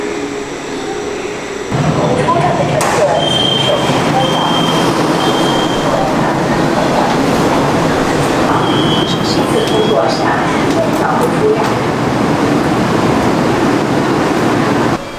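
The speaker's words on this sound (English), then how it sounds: "This is the second subway station of the day, and this is Shanghai South Railway Station." Busy underground platform at Shanghai South Railway Station in China, with a steady, loud roar of a train and station machinery, a sudden rise in noise as the train pulls in, and faint whistle-like tones above the rumble.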